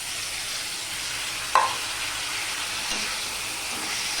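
Boiled bottle gourd peels tipped into a pan of onions, cumin and green chilli frying in oil, giving a sudden burst of sizzle that settles into a steady frying hiss, close and alone.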